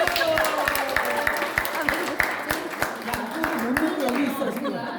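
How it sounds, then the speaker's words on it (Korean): Audience applause at a class closing gathering: a steady run of hand claps throughout, mixed with voices and chatter. "한번 박수!"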